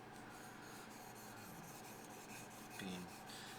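Yanagi knife sharpened on a curved Han-Han stone: a continuous, very faint rasping rub of steel across the stone, steady and close, with a slight scrape near the end.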